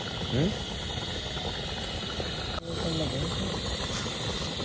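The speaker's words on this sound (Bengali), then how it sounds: "তরকারি গ্রেভিটা ফুটে গেছে" Curry gravy with eggs simmering in a pot at an outdoor village cooking spot, a steady bubbling hiss running throughout with a brief dip midway, heard close and fairly loud.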